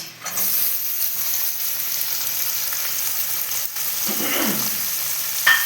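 Butter foaming and onions frying in a pan for a Bengali chicken stew, a loud close sizzle throughout with a few stirring scrapes and clinks.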